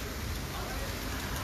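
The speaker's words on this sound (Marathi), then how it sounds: "दुबईमध्ये खूप जोरात पाऊस पडत आहे" Heavy rain pours down at a Dubai theme park resort, a dense, steady hiss of drops that holds at an even level throughout without a break.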